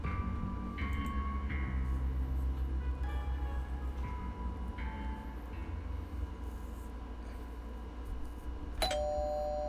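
A doorbell in the video game Reverse 1999 chimes in a repeated ding-dong pattern over a steady low hum, with a brighter bell tone ringing out near the end of the stretch.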